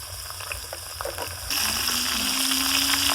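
Diced potatoes sautéing in hot oil with a pinch of turmeric for Bengali aloo dum; a soft bubbling crackle turns into a loud, steady sizzle halfway through as the potatoes hit the pan, close up with no talk.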